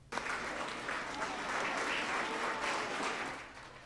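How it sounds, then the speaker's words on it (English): A crowd in Chicago applauds Luca, a retiring Marine military dog who served in Iraq and Afghanistan: clapping starts abruptly and continues as a steady, even wash of many hands at a fairly distant, moderate level. "That applause is for Luca, the dog."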